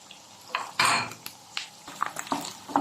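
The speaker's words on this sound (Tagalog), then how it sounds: "haluin lang po natin siya. Para po ay maluto." Chicken salpicao being stirred in a pan: repeated scraping clinks of a utensil against metal in an uneven rhythm, close and fairly loud over a faint sizzle, with no voices.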